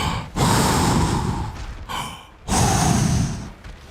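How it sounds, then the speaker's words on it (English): Heavy, loud breathing from someone walking on a treadmill: two long, rough breaths close to the listener, separated by short pauses, with no talking. "Why are you loud breathing, bench one? Because I'm walking on a treadmill."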